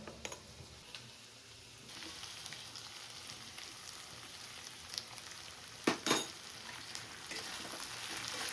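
Potato, onion and spices sizzle steadily in a pan at close range, a soft continuous fry broken by a couple of sharp utensil clinks against the pan.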